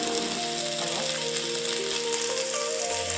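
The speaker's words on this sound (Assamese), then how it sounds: "আলু 2টা মই কাটি লৈছিলোঁ, এতিয়া ফ্ৰাই কৰি লওঁ" Cut potatoes frying in hot oil with turmeric, a steady close sizzle and crackle holding evenly throughout, with faint tonal hum in the background.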